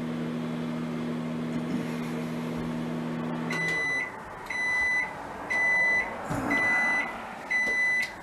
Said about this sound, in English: That buzzer means you're ready to enjoy.